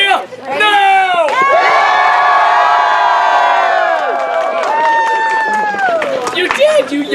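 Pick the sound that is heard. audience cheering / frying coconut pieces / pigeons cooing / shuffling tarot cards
audience cheering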